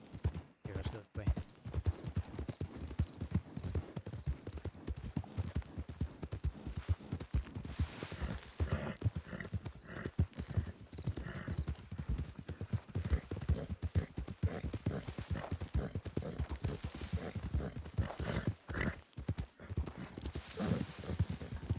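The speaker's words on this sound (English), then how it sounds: "Don't ride too close, they'll hear the horses." Continuous clip-clop of several video game horses' hooves at a steady trot, close by, with occasional snorts and a few quiet voices underneath.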